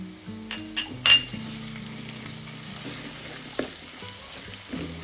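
Onions sautéed to golden in a pan with ginger-garlic paste for a green pea pulao give a steady, soft sizzle and frying crackle, with a few light clinks and stirring scrapes, close by and without talk.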